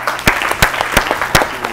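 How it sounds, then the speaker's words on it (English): Scattered clapping from a quiz-show audience for a competing school team, a few distinct loud claps at irregular intervals over a steady background murmur. "Please clap for them."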